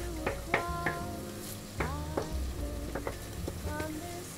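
Ketchup is frying in a pan for a Napolitan spaghetti dish, a soft sizzle under a string of clear, ringing clanks and scrapes from a utensil against the pan, with no talk.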